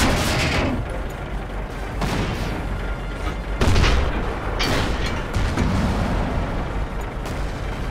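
Tank cannon fire in the World of Tanks video game during a historic battle at Cologne, heavy booming shots repeating every second or so over a constant rumbling battlefield background.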